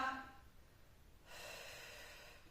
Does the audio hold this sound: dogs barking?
no